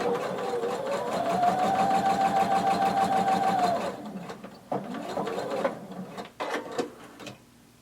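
A sewing machine stitching a folded tank top neckband closed: a steady, close mechanical whir for about four seconds, followed by short stop-start bursts and handling clicks.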